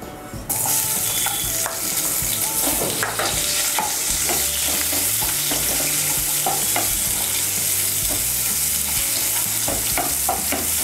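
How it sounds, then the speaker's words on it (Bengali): Chopped onion fries in a pan, a dense continuous sizzle with frequent scraping stirs and clinks of a spatula against metal, steady and close throughout, no one speaking. "পেঁয়াজটাকে ভেজে নেব"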